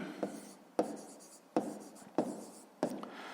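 Pen writing an answer to a fifth-grade maths exercise, five short scratchy strokes in an even rhythm, close and fairly quiet against a hushed background.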